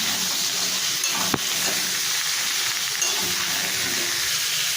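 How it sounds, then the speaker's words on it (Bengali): Papaya and potato fry in a pan with five-spice tempering, giving a loud, constant sizzle. One sharp scrape of the stirring utensil breaks through early on, and no one speaks. "পেঁপেগুলোকে ভেজে নিচ্ছি"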